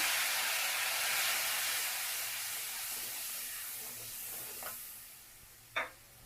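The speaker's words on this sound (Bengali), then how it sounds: "ঢেঁড়স ভাজার তেলে আমি টমেটো গ্রেট করে রেখেছিলাম, সেটা দিয়ে দিলাম।" Loud, dense hiss of grated tomato sizzling in hot oil left from frying okra, gradually easing off, with a couple of brief scraping clinks near the end.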